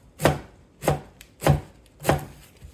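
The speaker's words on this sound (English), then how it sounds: "trying to chop as small pieces or slices as I can while watching my fingers" Four evenly spaced, crisp knife chops through sukuma wiki kale on a cutting surface, each a sharp close thud with a short tail, no voices.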